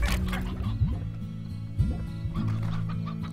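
Stony hens in the Slime Rancher video game clucking in short, repeated bursts over a steady low hum of game ambience, with a few louder calls standing out.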